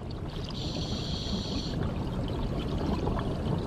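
Water of an underground cave river, the Black Danube, rushes and pours in a steady, fairly soft wash, with a brief higher tonal whine early on and no speech.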